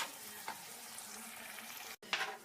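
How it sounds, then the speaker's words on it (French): Sliced mushrooms go into a pan of frying onions, and a steady sizzle runs throughout, with a few louder crackles and a short break near the end before the frying surges again. "Je vais ajouter les champignons sur les oignons."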